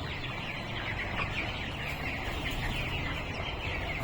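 Twenty-two-day-old chickens in a multi-storey poultry house give a continuous, dense chorus of clucking and chirping. The flock sounds at an even, moderate level with no speech.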